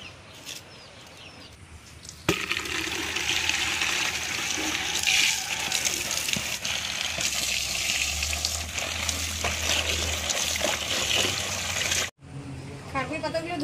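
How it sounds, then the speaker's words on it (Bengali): Water splashes and gushes steadily while kharkol leaves are washed by hand, a close, continuous wet rush with occasional sharper splashes and a voice speaking over it. "এবার আমি খারকোল পাতাগুলো পরিষ্কার করে ধুয়ে নিয়ে আসি গোটা গোটা"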